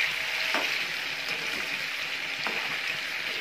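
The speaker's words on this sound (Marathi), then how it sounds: "माशाची करी बनवण्यासाठी हाफ फ्राय तळून घ्यायचे आहे" Fish half-frying in salted oil in a pan for fish curry, a steady close hissing sizzle with faint crackles throughout, no voices.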